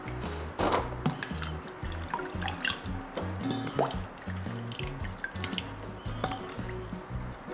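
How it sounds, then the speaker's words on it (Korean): Water is poured into a pot to rinse salted potato pieces, giving a soft, steady trickle with splashes and drips, quiet and close, with a faint low hum underneath. "자, 물 부어가지고 건지면 돼."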